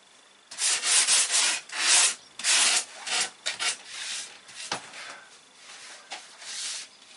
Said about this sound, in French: Moi je pourrais sortir la ponceuse, mais dans un premier temps j'y vais à la main.